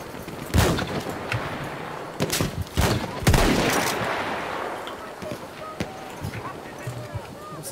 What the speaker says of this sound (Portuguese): Se están disparando del otro lado del mapa.